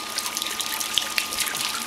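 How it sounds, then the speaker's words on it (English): Water trickles down a rain chain fountain in a steady, close dribble with small splashes and droplets, heard alone without voices. "This is the new Rain Chain water fountain."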